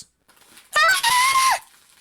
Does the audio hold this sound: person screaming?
yes